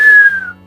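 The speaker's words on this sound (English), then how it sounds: "And you also whistle with your own," A person whistles through pursed lips: one short, loud, close note that glides slightly downward and then stops, leaving a faint low hum.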